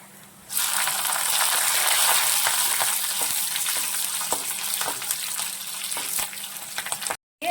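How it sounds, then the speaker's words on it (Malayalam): Green chilies sauté in hot oil in a pan while a drumstick-leaf curry is being made. A loud, steady sizzle starts abruptly and continues, with faint stirring scrapes, and briefly drops out near the end. "നമ്മൾ ഇതിലേക്ക് പച്ചമുളകും കൂടിയിട്ട് വഴറ്റുകയാണ്"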